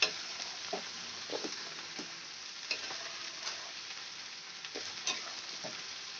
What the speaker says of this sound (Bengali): এবার আমি চিকেনটাকে কষাতে থাকব